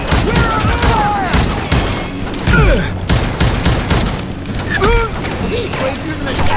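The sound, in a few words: gunfire in video game Call of Juarez Gunslinger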